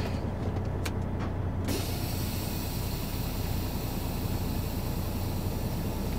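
A truck creeps forward at a fuel stop, its engine giving a loud, steady rumble and broad road hiss throughout, with a couple of faint high clicks early on.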